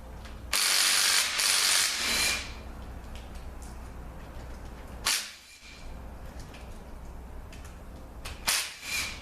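A ratchet wrench loosens bolts on a ZF6HP19A transmission during a teardown, with a loud burst of rapid clicking near the start, then quieter clicking and two more short bursts later, close up with no talk.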